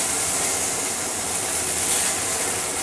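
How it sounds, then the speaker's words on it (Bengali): Finely chopped shiuli leaves frying in a little oil, a dense continuous sizzle and hiss at steady strength, close and unbroken, with no voices. "তেলে আমি পাতাগুলোকে ভেজে নেব"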